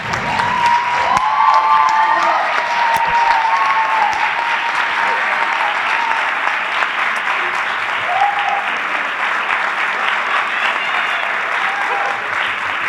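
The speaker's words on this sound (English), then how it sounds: "Another round of applause for you guys here." Sustained audience applause after a mock congressional hearing, a dense, steady wash of many hands clapping with a few faint shouts, continuing evenly for several seconds.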